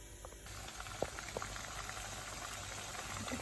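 Cornflour-coated chicken pieces for chicken Manchurian deep-fry in oil, giving a soft, steady bubbling with scattered small pops and crackles, heard close and quiet without speech.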